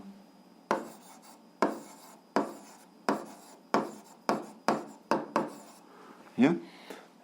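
Pen strokes on paper while a math problem is written out, about nine sharp scratching strokes at a steady rhythm, close and clear, ending in a longer rasping scribble.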